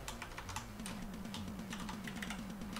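Quick, steady keystrokes on a computer keyboard as JavaScript code is typed, a continuous close run of clicks over a faint low hum.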